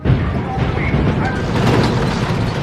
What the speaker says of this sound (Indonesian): Bunyi gemuruh suara tembakan yang tak henti-henti terdengar sangat begitu menegangkan